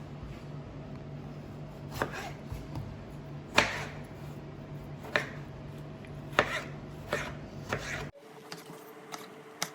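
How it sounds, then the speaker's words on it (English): A knife chops tomatoes into small pieces on a board for momo chutney, crisp separate thuds at an uneven pace over a steady background hum, then falls quiet near the end. "first we're going to cut these tomatoes into small pieces"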